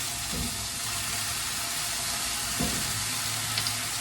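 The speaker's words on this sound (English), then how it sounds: "Sizzle, sizzle, sizzle." Tofu sizzling steadily in a hot frying pan, a constant crackling hiss with a couple of soft clinks of a utensil.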